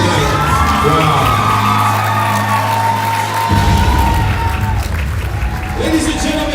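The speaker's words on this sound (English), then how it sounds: "how about another big round of applause for the lovely Victoria Tupua?" Audience at a women empowerment pageant for a 50th birthday applauds and cheers loudly for a contestant, Victoria Tupua, with whoops and shouts filling the room throughout and a low hum under the first half.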